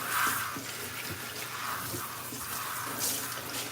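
Water runs from a tap onto a cat's body as it is wetted for a lion cut grooming, a steady close splashing flow with small knocks and movements underneath.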